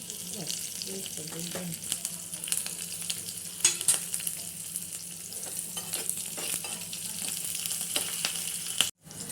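Green chillies and curry leaves frying in a tempering, giving a steady close sizzle with stirring clatter throughout and a brief cut near the end.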